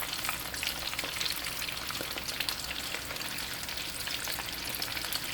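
Skinny shrimp spring rolls frying in hot oil, a dense, continuous crackling sizzle that stays loud and even throughout with no voices.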